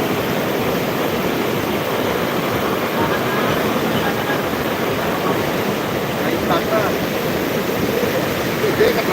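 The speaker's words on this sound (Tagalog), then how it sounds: "Kaya nga si Sikoy Loving Sky, grabe na ang lakas ng tubig." Strong floodwater rushes continuously during a flood, a loud, steady broadband roar that holds without a break and stays close.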